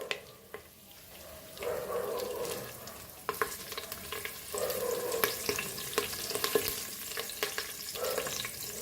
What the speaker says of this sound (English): now I will saute this masala and the onion and potato